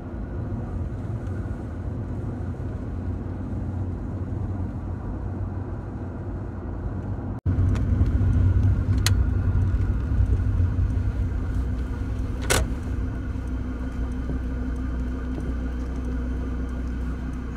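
Car driving along an alpine road with uneven asphalt, a steady engine and road rumble heard from inside the vehicle, continuous and unbroken apart from a brief dropout midway.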